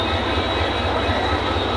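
An intercity train rolls slowly into Lalmonirhat railway station, giving a steady, continuous low rumble of wheels and cars with a broad hiss above it, close and unbroken throughout.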